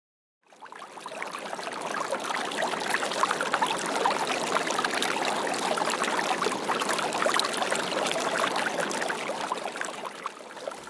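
Water of the Yaqui River in Sonora, Mexico rushes and pours continuously, a dense, fairly close broadband splashing flow that fades in after a moment of silence and carries on steadily alone.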